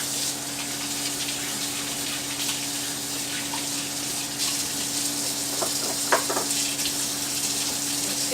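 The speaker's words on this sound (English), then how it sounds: "wash my hands real quick" Tap water runs steadily into a kitchen sink during hand washing, a continuous hiss and splash with a few soft clatters near the end and a low hum beneath.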